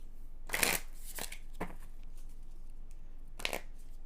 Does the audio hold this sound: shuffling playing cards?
yes